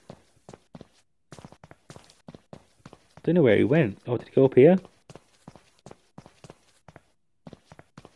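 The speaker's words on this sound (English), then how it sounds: "I can't hear any footsteps other than mine." Video game footsteps from a PUBG Mobile player character patter in a steady, evenly spaced rhythm, crisp and close. Someone talks over the middle of the sequence.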